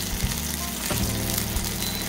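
Beef steak slices sizzle loudly in hot garlic oil in a pan, a dense, crackling fry heard close up. Low knocks and scrapes from handling the meat come in alongside.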